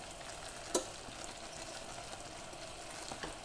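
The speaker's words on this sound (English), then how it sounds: "You want to stir, and you want it to boil for 3 continuous minutes." Christmas crack toffee mixture boils in a pan while being stirred slowly, a faint steady bubbling sizzle with one sharp spoon tap on the pan and a softer knock later.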